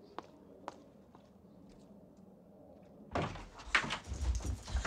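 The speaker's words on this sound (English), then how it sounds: "Close the door!" A door is opened in a 1988 Mike Leigh drama: a few faint knocks and quiet room noise give way to a louder burst of rattling, thudding door and footstep sounds close by, with no clear talk.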